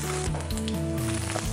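Garlic frying alongside golden ginger slices in sesame oil gives a dense, continuous sizzle close to the pan, with faint stirring movement underneath and no voices.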